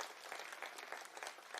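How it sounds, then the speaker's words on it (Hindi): A burst of applause at an Aam Aadmi Party Foundation Day speech, many hands clapping steadily and densely for under two seconds, fairly distant with no voices over it. "उन सब के लिए एक बार जोरदार तालियों से मैं स्वागत करना चाहूंगा।"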